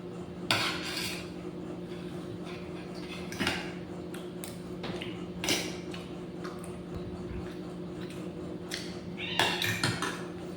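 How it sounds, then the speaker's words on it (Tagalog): A cat meows a few times nearby over a low steady hum, with scattered light clinks and taps of dishes and cutlery. "pusa lang po yung maingay"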